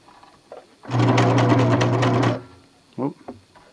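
A sewing machine backstitching through duct tape while a knife sheath is made: a quick, loud mechanical whirring burst of rapid stitches, lasting about a second and a half, with quieter sounds before and after.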